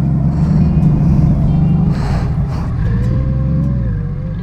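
A 1520cc Honda Valkyrie motorcycle engine rumbles loud and close with a deep, steady idle-like growl, swelling briefly around the middle before settling into a smooth, continuous drone.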